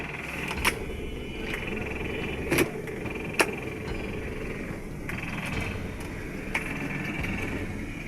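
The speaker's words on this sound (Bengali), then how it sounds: "আমরা হচ্ছে এসির শব্দ শুনতে পাচ্ছেন এসি ঠান্ডা হয়" The air conditioner of a Toyota Corolla 110 SE Limited blows with a steady, even whoosh, broken by a few sharp clicks.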